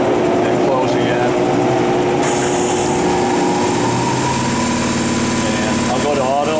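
An air compressor runs on an Eldorado M75-1041 deep hole gun drilling machine, giving a steady mechanical drone close by that holds for several seconds, with people talking over it.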